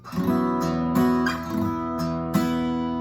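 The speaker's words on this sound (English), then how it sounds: "it actually sounds kind of cool to just slide into it, but let the bass ring open" Guitar slides up into a 2 chord while the open bass string rings underneath, with several strummed attacks over a sustained, resonant wash.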